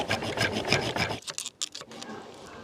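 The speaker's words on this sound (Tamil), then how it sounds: "ரெண்டு சைட்லையும் இதே போல் வந்துட்டு கட் பண்ணிட்டு அந்த காயில் வந்துட்டு எடுத்துறேன்" A secondary coil is cut away from a microwave transformer with a blade or saw, giving a steady rasping, filing scrape for about a second before it breaks into short, separate strokes.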